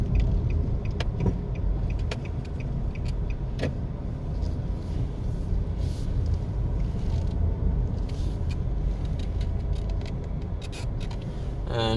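A car drives through the residential community of Three Oaks Gardens in Kingston, Jamaica, giving a steady close interior road rumble and engine hum with occasional small clicks and rattles, and no voices.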